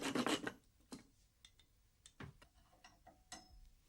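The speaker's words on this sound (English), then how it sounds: "A little sawing work on the chest expanders." Short rasping saw strokes on gym chest expanders, a burst of quick scrapes up front followed by sparse, separate rubbing strokes and small ticks, close and fairly quiet.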